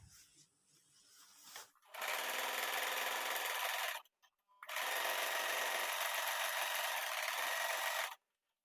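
An Usha Janome Wonder Stitch Plus sewing machine stitches the corner of a frilled foam bedsheet in two long, loud, steady whirring bursts separated by a short pause, preceded by quiet handling noise.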